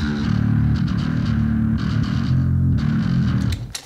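LTD Phoenix bass with EMG pickups through the Darkglass Ultra plugin, a thick, distorted, low-heavy riff played continuously and loud, alone with no talk.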